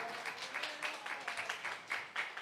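A church congregation claps to welcome a missionary to the front during a Sunday service, a steady wash of applause with a few louder bursts, fairly distant and soft.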